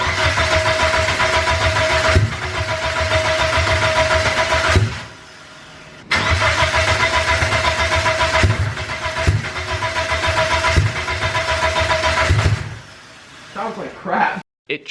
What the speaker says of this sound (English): It tried to start, it really did, but it was not able to.